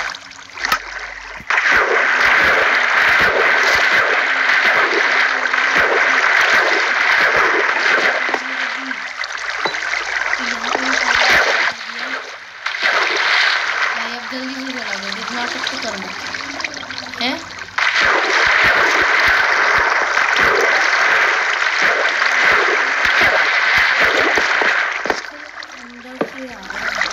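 Water flowing and splashing in the video game Minecraft, a loud continuous rushing wash in long stretches broken by short pauses, with talk underneath.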